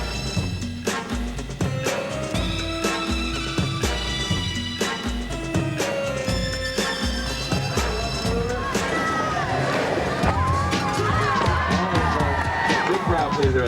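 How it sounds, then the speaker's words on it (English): Crowd cheering and whooping at a skatepark demo, loud and continuous, with skateboard wheels rolling and clattering on ramps, shouts rising toward the end. "here we are, and we've got a great crowd"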